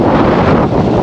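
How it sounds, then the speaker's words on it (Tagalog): Strong tropical storm wind roars steadily across an open mountain campsite at Victory Peak, buffeting the microphone with loud, continuous broadband rushing and no pauses. "Sobrang lakas ng hangin mga tol."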